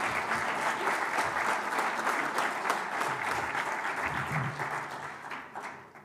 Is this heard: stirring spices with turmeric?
no